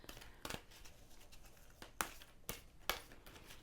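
Large cards being shuffled, a few sharp riffling slaps spaced irregularly over quiet, soft papery crinkling in between.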